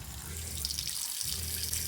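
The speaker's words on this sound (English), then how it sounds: "We have running water!" Tap water runs steadily inside a building after newly completed plumbing, a continuous close hiss and splash with no talk over it.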